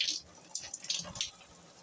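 A weak trickle of water from a faucet whose supply is barely flowing, heard as faint, uneven splashes and drips with brief soft bursts over a quiet background.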